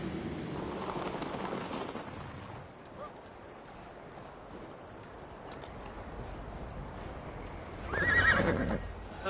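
Hooves pound in a rapid gallop against a steady rush of background noise, with a horse's whinny rising near the end, in the video game Assassin's Creed Valhalla.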